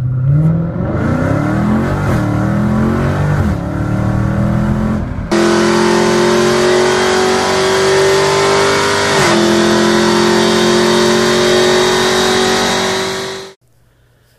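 A supercharged V8 Dodge Challenger Hellcat with a manual Tremec gearbox accelerates hard, engine roaring through rising gears with a loud supercharger whine, then abruptly cuts off.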